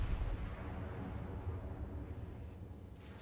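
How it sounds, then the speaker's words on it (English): The battleship Fuso in the World of Warships game fires an opening salvo, heard as a deep, rolling low rumble of heavy gunfire that slowly fades over a few seconds, fairly faint and with no voices. "It's a good opening salvo."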